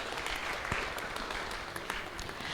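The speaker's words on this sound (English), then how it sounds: "Let's give them a round of applause." A temple audience at a Sunday Love Feast gives a steady round of applause, the clapping dense and moderately distant with a few sharper claps standing out.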